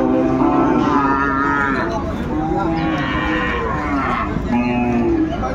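A Sahiwal bull calf at a cattle market in Dinajpur lets out several loud, drawn-out moos close by, repeating in a slow rhythm over a steady background of crowd chatter and livestock.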